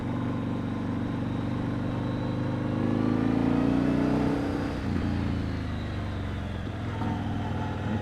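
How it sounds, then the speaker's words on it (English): A Yamaha MT-01 SP motorcycle accelerates out of a corner near Hakone, Japan, its engine a steady low rumble that swells as the throttle opens mid-way, then eases. The sound stays close throughout. "You come out of the corner like this and then you just open the throttle."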